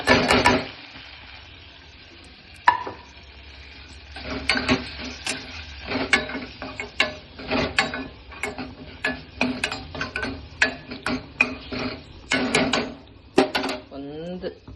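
Spice masala fries with cooked tomatoes in a pan for sambar, a soft sizzle under repeated scraping and clinking stirs of a spoon against the pot, with someone talking over it.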